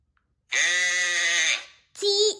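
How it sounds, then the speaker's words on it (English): A sheep gives one long, loud, close bleat with a steady wavering tone, then a second shorter bleat after a brief pause, with no talking. "S is for sheep."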